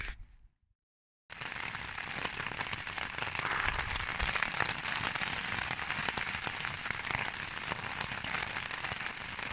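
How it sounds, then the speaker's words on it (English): Heavy rain pelts a tarp pitched as a bivvy over a hammock at a wild camp beside the River Derwent near York, a dense, steady drumming patter that starts abruptly after a brief silence and stays loud and close. "And it's absolutely chucking it down now."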